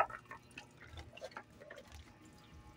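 Water is poured over a pet dog named Hyper during its bath, quiet splashing and dripping in short irregular bursts with faint voices nearby.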